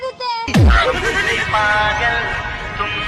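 A horse neigh sound effect rings out as a loud whinny with a descending tail, following a brief sharp burst at the start.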